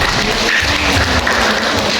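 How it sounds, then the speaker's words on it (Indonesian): Loud, close applause from an audience at a family gathering fills a short burst, a dense, continuous roar of clapping hands with no talk. "Tepuk tangan buat kita."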